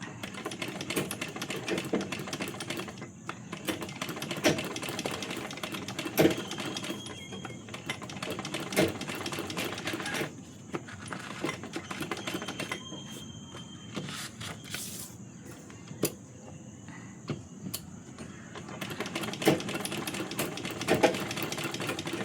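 A sewing machine stitches along lines drawn on paper, giving a close, rapid rattling hum in bursts that pause briefly between runs of stitching.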